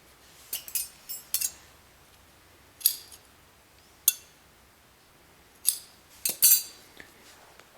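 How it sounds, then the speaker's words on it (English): Scissors cut crochet yarn in a series of crisp metallic snips and clicks, some in quick clusters and others spaced apart, close up in an otherwise quiet room. "then I'll cut this yarn"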